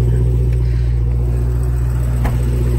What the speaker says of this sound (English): When that bad boy unleashes with that 700 horsepower engine, it's pure driving hell love